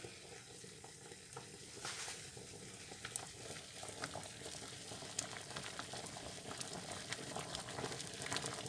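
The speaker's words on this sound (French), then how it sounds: "on laisse cuire et on remue régulièrement." Vanilla rice semolina simmering in a pot while being stirred, a soft steady bubbling and sizzling with faint scraping, quiet and close without voices.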